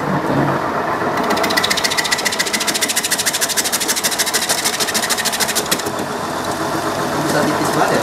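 Cassava-slicing machine set to cut 8 mm chip slices, a steady dense mechanical whirr with rapid rhythmic clatter that runs loud through most of the stretch, with background voices.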